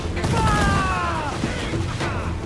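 Broadside cannons fire during an Assassin's Creed 4 Black Flag sea fight, a loud rolling volley of low blasts over constant battle noise and descending whistles.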